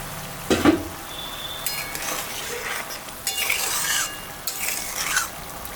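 Pangas fish sizzling in oil in a pan on a home stove, with stirring scrapes and light clinks of a utensil against the pan, a steady nearby fry crackle rising and falling in short bursts.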